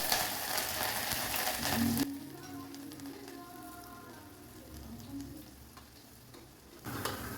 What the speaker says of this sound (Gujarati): રાઈ અને જીરું ઉમેરીએ વઘાર માટે.